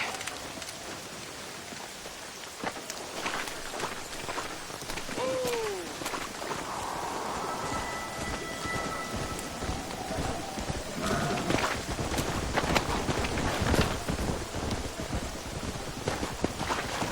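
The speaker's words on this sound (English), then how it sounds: "This storm's getting worse." Heavy storm rain in Red Dead Redemption on Xbox 360, a constant dense hiss of rainfall lasting throughout, with faint hoofbeats and a few brief tonal calls buried in the downpour.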